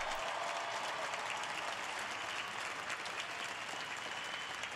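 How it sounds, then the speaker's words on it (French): Applause from a large crowd at the World Youth Day welcome ceremony for Pope Francis in Lisbon, a dense, steady roar of clapping that holds at full strength from start to finish with no voices on top. "Remercions Jésus avec un autre grand applaudissement."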